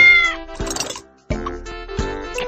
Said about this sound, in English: That's the one! A cat!